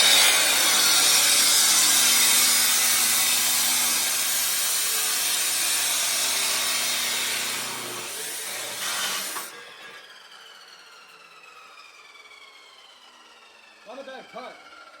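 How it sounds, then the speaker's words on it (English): A grinder chop saw cutting metal on a 6.0 Powerstroke diesel truck job, a loud sustained grinding whine for about nine seconds that then cuts off, leaving faint clanks and brief noises. "Using a grinder chop saw is like the best investment ever."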